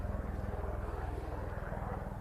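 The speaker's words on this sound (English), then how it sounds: "We've got a helicopter just flying off." A helicopter flying off near the North Sea coast at Dunstanburgh Castle golf course, its rotor thudding in a rapid steady beat with an engine drone, moderately loud and continuous, with faint voices underneath.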